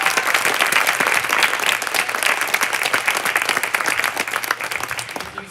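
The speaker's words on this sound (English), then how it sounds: "how about a round of applause for all of this?" An audience claps at a winter sports awards event, with continuous dense applause filling the room from start to finish.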